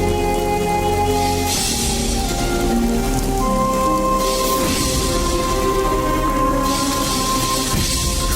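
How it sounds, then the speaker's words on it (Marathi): Steady rain falling outdoors in a Marathi household scene, a dense continuous hiss over a sustained musical score with held tones, no voices. "पाऊस पडतोय ना."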